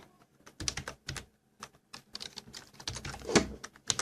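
Someone types on a computer keyboard nearby in uneven bursts of crisp clicking keystrokes, with short pauses between the groups of taps.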